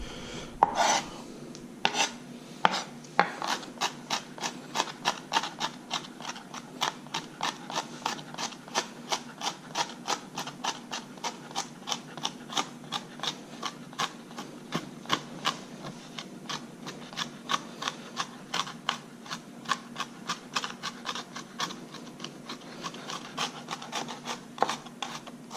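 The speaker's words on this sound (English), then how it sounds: "trying to smash up and cut up all these pieces" A knife dices peppers on a cutting board after the seeds are removed, making a long run of quick, even tapping chops close by, with a steady low hum underneath.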